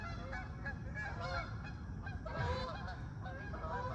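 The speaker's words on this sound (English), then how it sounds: "wow, I got ducks" Several geese or ducks honk repeatedly in a continuous, fairly loud outdoor chorus, with overlapping calls and no speech.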